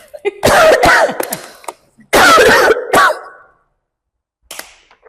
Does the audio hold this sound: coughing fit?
yes